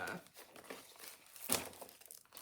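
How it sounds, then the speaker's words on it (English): Washi tape torn from a roll and pressed onto a purple scrapbook page gives soft, close crinkles and a short rip, with one sharper tearing burst midway. "I guess we could maybe throw a little washi tape on there now"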